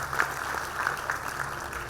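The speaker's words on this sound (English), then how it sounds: "give all of them another well-deserved round of applause" An audience at a 2024 campus graduation ceremony applauds, a dense, even wash of clapping held at a moderate level throughout.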